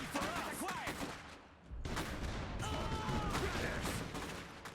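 Gunfire in the strategy game Iron Harvest, a steady battlefield din of dense shots and crackling volleys that dips briefly near the middle before surging back, with voices talking over it.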